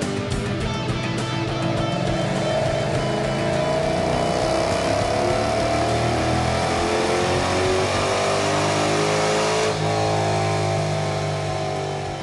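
A Dodge SRT8 runs hard on a chassis dyno in a tuning shop, its engine note climbing steadily as it revs up through the pull, loud and continuous with a brief lift near the end.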